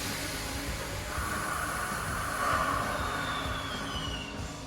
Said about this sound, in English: When a 12 would depart, air from the brakes would be released, producing the most unique brake release sound of any train in all of Boston.